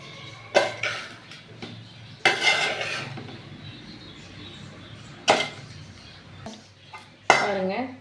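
Metal utensils scrape and clink against a pan as paneer fried rice with pepper powder and chaat masala is stirred, four clattering bursts of spatula strokes spaced apart with quieter shuffling between and a voice talking over it.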